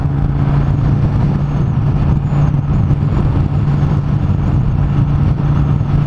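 Motorcycles ride together on a highway, a loud, unbroken drone of engine and road noise heard up close from the moving bikes, with no talk.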